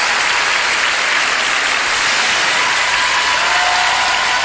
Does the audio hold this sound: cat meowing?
no